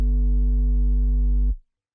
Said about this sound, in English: Moving on to the bass,